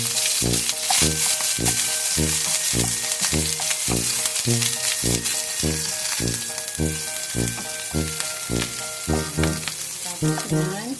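Onions sizzle in a hot pan with a loud, steady frying hiss, under a regular rhythmic pattern of tones and occasional clinks, with no voice.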